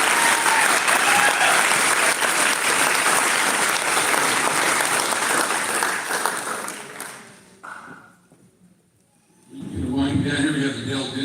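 A high school honors assembly audience applauds at length, a dense, loud wash of clapping that fades out, followed by a brief lull and a voice speaking.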